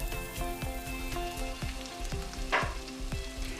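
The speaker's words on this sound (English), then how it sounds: "we need to keep on cooking these until they stop making the noise" Cumin seeds sizzling in hot oil for a fenugreek and chicken curry, a steady close crackle and spatter with rhythmic stirring scrapes recurring about twice a second, no voices.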